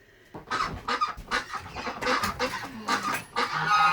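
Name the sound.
chickens clucking in a chicken shed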